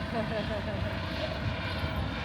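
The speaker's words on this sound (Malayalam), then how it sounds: "അടുത്ത ഹെലികോപ്റ്റർ കണ്ടു." A helicopter flies over the Sydney coastline between Coogee and Bondi, a steady distant rotor-and-engine drone that holds level throughout, with voices faintly underneath.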